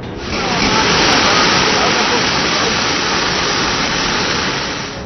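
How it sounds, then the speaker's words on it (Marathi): Rivers and streams running high in flood after days of heavy rain, a loud, steady broadband rush of water close by that holds constant from start to finish with no voices. "जिल्ह्यातल्या परंडा तालुक्यातील अनेक नदी नाले दुथडी भरून वाहू लागले"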